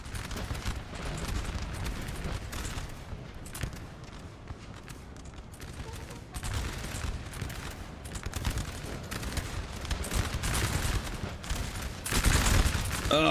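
Musket volleys crackle across a Napoleon Total War 4v4 battlefield, a dense, fairly distant roll of overlapping gunfire that swells and fades in waves and grows louder near the end.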